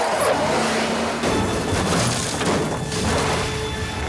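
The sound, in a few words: car crash in a film scene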